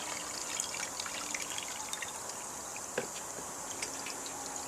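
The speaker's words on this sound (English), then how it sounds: "I'll pour that water in just until that cup starts to float." Plain water poured into a container around a cup during a winter fiberglass job, a steady close trickling and splashing stream with faint drips, heard alone.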